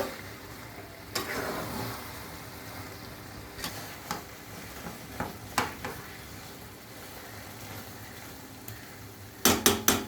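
Stirring carrot halwa in a pan, a soft sizzle under repeated light scrapes and taps of a spoon against the pan, ending in a quick cluster of sharper clinks.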